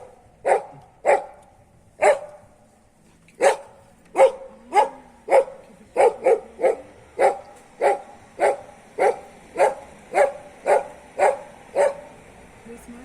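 A dog barks repeatedly and steadily, loud and close, at wild boars in a town street in Güllük, Bodrum, with short regular gaps between barks over a faint background.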